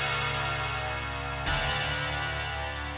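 A trap beat made in FL Studio plays, its root note shifted up a half step at the end, with a steady, dense full-band texture and a sharp change partway through, no talking.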